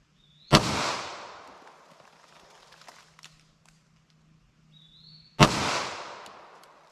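Two sharp, loud pistol reports from a 9mm handgun with a 5-inch barrel, fired over a chronograph with Federal Hydra-Shok ammunition, spaced about five seconds apart, each followed by a decaying outdoor echo.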